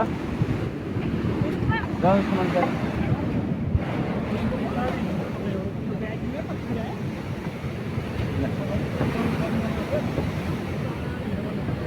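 Strong wind roars and buffets continuously outdoors on the Kedarnath route, with a rushing river in the background and someone speaking briefly over the gusts.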